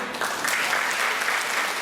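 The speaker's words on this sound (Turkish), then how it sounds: "Hazır mıyız güzel bir alkış için?" An audience applauds a guest being welcomed onto a stage, giving a dense, steady wash of clapping throughout.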